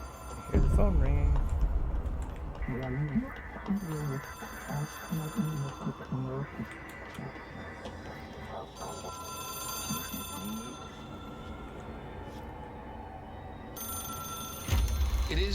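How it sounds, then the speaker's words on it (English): An old-style telephone in the game Control rings in repeated electronic bursts with pauses between, moderately loud over a low ambient hum, with a voice speaking briefly. "Hear the phone ringing."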